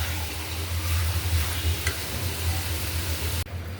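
Tomatoes sauté over fried onions in a pan, giving a steady close sizzle and hiss with a faint scrape of stirring; the sound drops away abruptly near the end.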